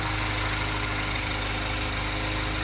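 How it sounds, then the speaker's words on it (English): A 2010 Mini Cooper S Coupe idles steadily and close by, a constant smooth engine hum with a faint rhythmic pulse and no pauses or talking. "As you can hear, the car is running phenomenally."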